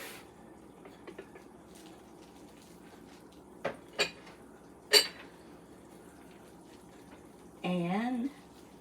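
Dishes clink and clatter into a kitchen sink in a few sharp separate knocks, followed by a brief run of tap water, with quiet room tone between.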